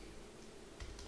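Fingers tap out a short word on a computer keyboard in a quick burst of soft, faint key clicks.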